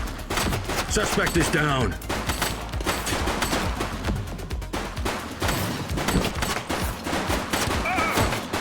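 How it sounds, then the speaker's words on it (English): Gunfire from The Precinct, a police video game: a burst of loud, rapid shots near the start, then repeated sharp shots through a busy scene with shouting voices and continuous game sound. "Shots fired!"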